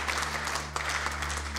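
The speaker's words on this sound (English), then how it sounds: "I'd love us to put a huge round of applause, big cheer for all of our youth team" Applause for a church youth team at a Sunday service rings out, dense and steady throughout with a brief sharper burst midway, loud and close.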